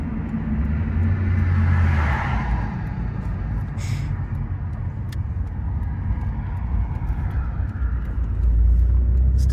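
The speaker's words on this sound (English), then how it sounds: "Some burbles." A straight-piped Nissan R34 GTR V-Spec drives along with a deep, rumbling exhaust drone, with a few crackling burbles as the throttle eases, heard from inside the car.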